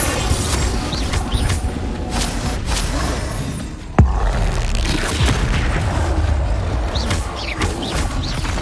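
Confringo blasting-spell explosions in Hogwarts Legacy, a dense, continuous rumble of booms and crashes with one sharp blast standing out midway through.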